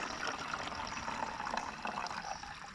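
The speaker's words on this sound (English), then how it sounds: "we'll filter this water through the neck buff into this bottle" Water is filtered through a fine neck buff into a bottle on a deserted island, a faint, steady trickle and pour of liquid that runs continuously, close and quiet, with no speech.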